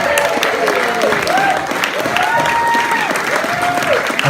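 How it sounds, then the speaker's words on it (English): A wedding audience applauds the bride and groom, a dense sustained clapping with scattered voices and whoops mixed in. "Now let's give the bride and groom a massive clap"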